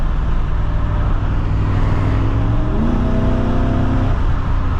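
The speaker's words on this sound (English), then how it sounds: "I love the 1UZ intake noise." A 1982 Toyota Supra with a swapped Toyota 1UZ V8 lets out a loud, close intake roar that climbs in pitch as the engine revs up partway through, over a constant low drone, with no talking.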